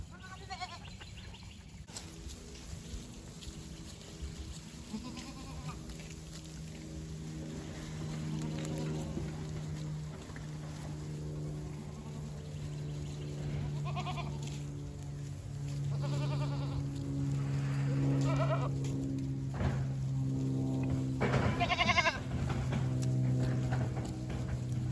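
Goats bleat intermittently in a farm pen near a rabbit tractor, several wavering calls at varying distances over a steady low hum and faint insect buzz.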